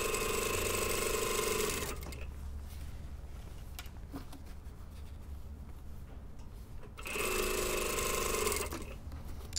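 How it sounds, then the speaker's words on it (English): A sewing machine stitches a skirt waistband at a 6mm seam: a steady, loud mechanical whir that runs for about two seconds, pauses to quiet handling noise, then runs again for about two seconds. "So I'm just sewing this on at 6mm."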